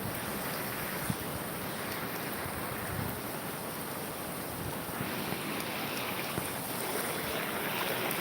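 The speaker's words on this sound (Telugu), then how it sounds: "చూడండి హాస్పిటల్ లోపల కూడా వాటర్ పోతుంది." Floodwater flowing through the inside of a hospital, a continuous broad rushing wash with no pauses, steady and fairly loud throughout.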